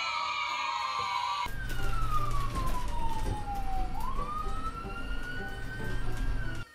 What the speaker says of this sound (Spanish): ¡Suena una sirena!